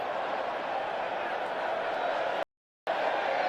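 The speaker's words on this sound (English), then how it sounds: "As the crowd appreciate Mexican wave" A rugby stadium crowd at a USA versus Samoa match keeps up a steady, broad roar as a Mexican wave passes through the stands, the noise dense and continuous before cutting out briefly and then returning.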